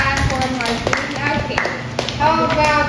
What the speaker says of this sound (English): can I give a clap for Martin?